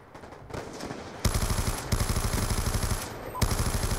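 Rapid bursts of light machine gun fire in a shooter video game, loud and close, rattling in sustained automatic strings with brief pauses between them.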